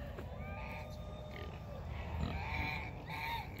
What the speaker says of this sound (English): Hey, baby pigs!